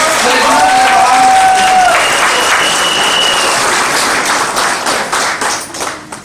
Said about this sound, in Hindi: बहुत जोरदार धमाकेदार दिल से ताली बजाना चाहिए।